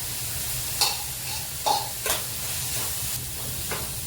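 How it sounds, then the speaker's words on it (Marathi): Ginger, garlic and chili paste sautéing in a pan over high heat, a steady hiss of sizzling with several short bursts of sputter and spatula stirring, close and moderately loud. "उग्र वास जाईपर्यंत आपल्याला परतून घ्यायचं आहे"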